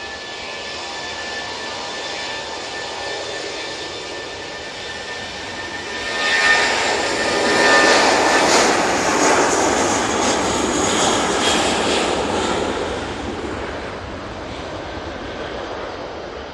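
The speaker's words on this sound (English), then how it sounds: "they're using one of their A320 CEOs for that flight back to London" Airbus A320ceo jet airliner passing at Manchester Airport, a rising engine roar that peaks loud and close midway, then slowly fades, with no voices.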